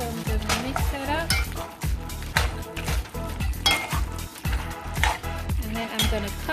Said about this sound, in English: So I'm gonna mix that up